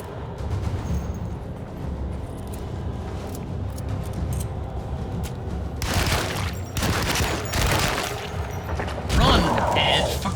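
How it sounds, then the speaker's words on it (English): A pistol fires in the video game Alone in the Dark in a burst of several loud, close shots clustered together, with booming impacts and mechanical clatter, and a voice talking in between. "What is it, about 8 shots with the pistol?"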